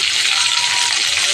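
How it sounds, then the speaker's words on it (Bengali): Flat beans, eggplant and tomato frying in oil in a pan, giving a steady, close, bright sizzle that holds evenly throughout with no talk over it. "চলো ভাজাগুলো করি"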